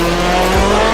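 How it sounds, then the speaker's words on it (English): A race car with a side exit exhaust on the right side roars loudly and close in the Project Cars game, a steady engine drone with a brief tire squeal. "this car's got a side exit exhaust on the right side there"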